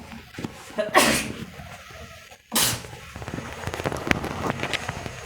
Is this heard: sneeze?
yes